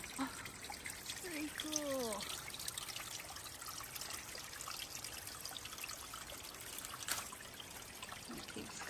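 Small stream trickling beside a hiking trail among rhododendrons on the Foothills Trail, a soft continuous babble in the background with birdsong chirps and a few faint knocks.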